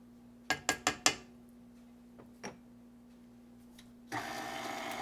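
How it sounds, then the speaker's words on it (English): A KitchenAid stand mixer on speed 2 whirs into motion, mixing sweet potato pie filling. Four quick metallic clinks and a lone tap come first, then the motor's steady hum starts near the end. "that's actually on 2 on your KitchenAid because we're just actually wanting to stir it really well"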